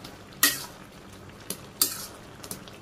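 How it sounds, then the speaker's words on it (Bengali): Spoon knocking and scraping inside a cooking pot as vegetable curry is stirred, a few sharp clinks spaced apart over a quiet background with faint simmering. "তরকারি হয়ে গেছে, আমি একটু নেড়ে চেড়ে করে দিই, একটু সবজিটা মিশিয়ে দিই"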